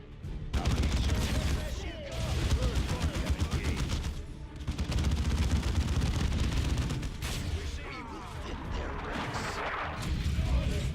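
Rapid gunfire and heavy artillery blasts from a Warhammer 40,000: Dawn of War 2: Chaos Rising battle, dense and continuous for the whole stretch, with bursts of shooting over booming impacts and no letup.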